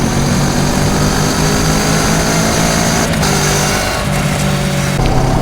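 Kawasaki Ninja 650 fitted with an Akrapovič exhaust accelerating out of town, a loud, steady engine roar with rushing wind that holds nearly constant throughout.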